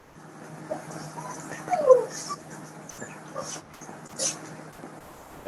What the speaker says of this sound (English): We have a puppy in the room.